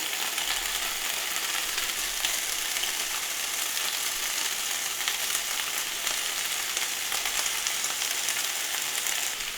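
Vegetables sizzle steadily in a hot pan for a stir-fry, a dense, even hiss of frying with faint stirring scrapes, close and continuous without talk.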